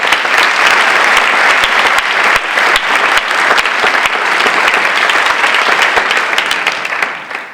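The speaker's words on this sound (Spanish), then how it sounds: "un aplauso para Mofta" Loud, sustained applause from an audience at an awards presentation, dense clapping throughout that tapers off at the very end.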